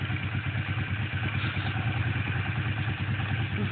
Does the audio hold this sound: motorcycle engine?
yes